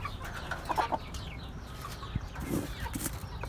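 Chickens from a backyard coop with Ameraucana hens on eggs give soft, scattered clucks at moderate distance, mixed with faint rustling and a brief flap of movement.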